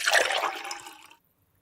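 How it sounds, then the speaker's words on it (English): Liquid splashes briskly into a glass as drinks are poured in a quiet room, a single close, gurgling pour that tapers off and stops after about a second. "pours out 3 drinks"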